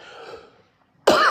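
After a faint, breathy lead-in and a brief silence, a single sharp, loud human cough bursts out near the microphone, with a short second push at its tail.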